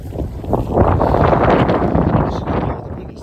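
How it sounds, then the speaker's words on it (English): Strong gusty wind buffets the microphone outdoors after a snowfall on a cold, blizzard-like day, a loud rumbling roar swelling and easing across the clip with no talk. "wind is still very violent today. Very windy."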